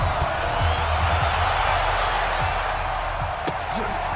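A stadium crowd in Madden 20 roars and cheers, a dense, steady wash of noise that holds at full strength throughout.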